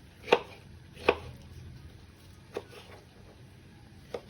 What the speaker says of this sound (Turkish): Ben şimdi domatesimi doğrayacağım.